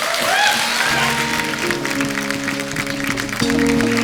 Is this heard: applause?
yes